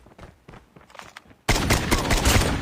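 Gunfire in the mobile game Call of Duty Mobile: soft in-game movement sounds first, then a sudden loud, sustained burst of rapid automatic shots with no voices.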